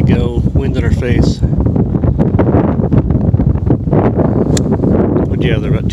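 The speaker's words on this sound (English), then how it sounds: "Wind in our face." Wind gusts buffet the microphone on a golf course at Mammoth Dunes, a steady roaring rumble throughout, with voices of golfers talking under it.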